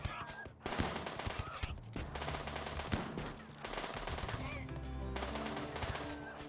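Gunfire in a Rimworld battle crackles in rapid, overlapping bursts of shots with short gaps, dense and loud throughout the clip, without talk over it.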